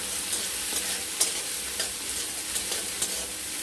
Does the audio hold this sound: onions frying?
yes